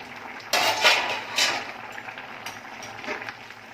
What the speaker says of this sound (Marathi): भाजी आहे ती मी पुन्हा ढवळून जरा बघणार आहे